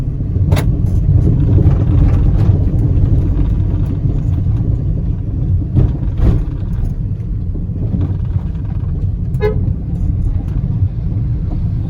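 A car engine that has grown noisy with reduced pickup runs as a loud, steady low rumble throughout, with road and traffic noise around it and a brief horn toot.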